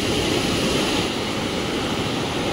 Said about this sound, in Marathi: नदीला आहे ना प्रेशर फुल आहे